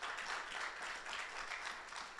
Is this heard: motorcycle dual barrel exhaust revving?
no